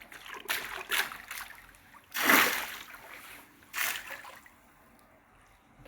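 Water splashing and running over a pool filter as it is washed, uneven gushes and spatters with a couple of louder bursts, fairly close but soft overall.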